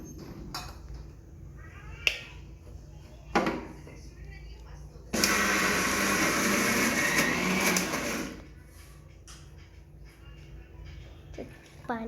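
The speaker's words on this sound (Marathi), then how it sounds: "इकडे आई आता डाळ बारीक करून घेतीये. हे पण ग्राइंड करून घेतीये आई." A kitchen mixer grinder runs in a loud, steady burst of about three seconds, grinding soaked lentils into a batter for homemade vada, framed by quieter clatter before and after.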